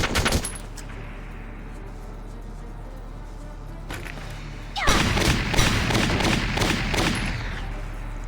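A powerful gun in the game Valkyria Chronicles fires a single shot at the start, followed by a long quiet stretch, and then a loud, dense burst of rapid gunfire and booms fills the last few seconds.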